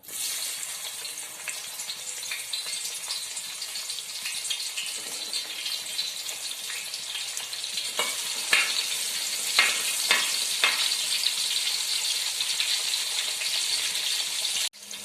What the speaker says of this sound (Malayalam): നമ്മുടെ വെളുത്തുള്ളിയും കറിവേപ്പിലയും വറുത്ത് കോരി ഇടാൻ പോവുകയാണ്.